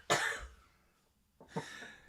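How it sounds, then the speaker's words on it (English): Two separate bursts of harsh coughing, close to the microphone, divided by a brief quiet pause. "Try and cough your way through this one"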